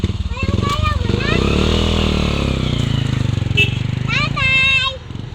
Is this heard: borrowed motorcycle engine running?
yes